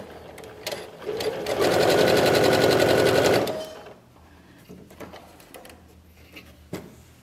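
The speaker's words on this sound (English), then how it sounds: "I'm just gonna start off a line of stitching" A sewing machine runs a steady line of elastic-thread shirring stitches along a fabric rectangle's edge, a loud, fast rhythmic whir lasting about two seconds between quieter handling clicks and rustles.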